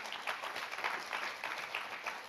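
A church congregation claps at an Indonesian anniversary service. The applause is faint and distant, a brief steady patter lasting a couple of seconds.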